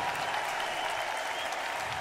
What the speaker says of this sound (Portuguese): Um aplauso para essa orquestra